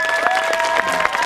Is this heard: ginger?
no